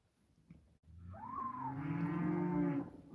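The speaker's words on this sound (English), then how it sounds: "you hear all the cows? They're saying, feed me, feed me" Cow on a homestead giving one long, loud, rising moo that starts low and swells over a faint background of outdoor rustling.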